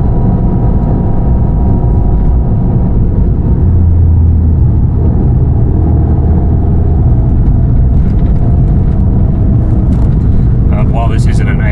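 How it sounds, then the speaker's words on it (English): A small Fiat 500 engine drones steadily with a low, throaty rumble, loud and close throughout, with faint higher noise toward the end. "it does make a nice little noise for a small engine"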